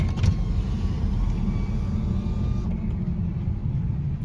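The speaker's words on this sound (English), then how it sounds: "Right now I'm making some noise on the tires because I have brand new tires, so I forgot to take off the sticker off the tread" Road and tire noise from a 2021 Honda Accord on brand new tires with stickers still on the tread, a steady low rumbling hum heard from inside the car, continuous and fairly loud.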